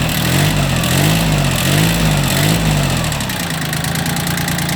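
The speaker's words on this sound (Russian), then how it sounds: "Двигатель работает ровно, никаких лишних звуков не издает." A Japanese ISEKI TX1410 mini tractor engine idles steadily with a low, even throb, close and fairly loud, holding the same smooth rhythm throughout with no other sounds on top.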